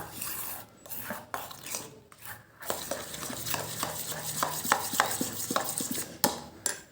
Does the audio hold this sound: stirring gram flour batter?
yes